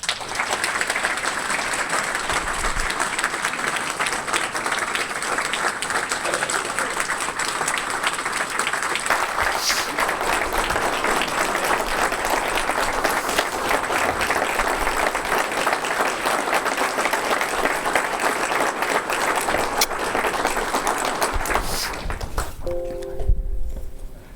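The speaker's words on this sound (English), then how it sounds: "Please join me in welcoming with a big round of applause, Professor Al Price." An audience claps steadily for a long stretch, dense and sustained applause filling the room at a farewell lecture, tapering into a few scattered sounds at the end.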